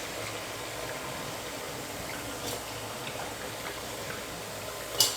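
Thavala vadai fry in hot oil with a faint, steady bubbling sizzle and scattered small crackles, ending in a brief sharp click.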